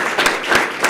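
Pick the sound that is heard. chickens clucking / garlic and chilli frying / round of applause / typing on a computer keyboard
round of applause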